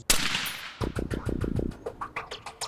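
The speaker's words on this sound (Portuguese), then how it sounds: "Uma mira precisa. O disparo." A police sniper fires a single precision rifle shot during marksman training in São Paulo: one sharp, loud crack, followed by a rapid train of decaying echoes that rattle off the surroundings.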